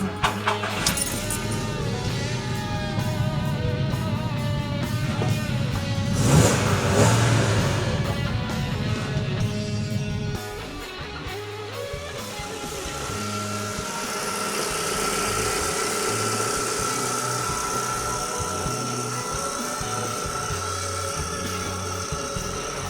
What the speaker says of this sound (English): let's start the car first.